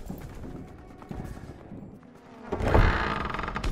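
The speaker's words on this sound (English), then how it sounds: "Those AA guns!" Anti-aircraft guns firing during a World War II battle on the Rhine in Call of Duty: WWII, distant rapid bursts and battlefield noise that swell into a louder, heavier barrage near the end, with brief shouts in the mix.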